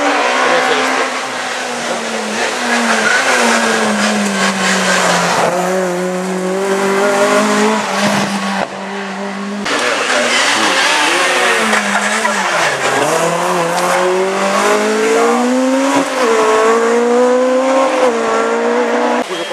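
A rally car at the 2014 Rally de Naron passes at speed in two close, loud runs, the engine revving hard through rising and falling gears while tires squeal in sliding bursts.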